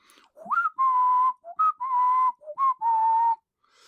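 A person whistles a tune clearly and close up, alone: a rising slide, then a run of sustained, evenly pitched notes in short phrases with brief gaps between them.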